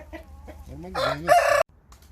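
Roosters on a farm in Istanbul cluck briefly, then one crows loudly and close by, its call rising and cutting off sharply before a quiet pause.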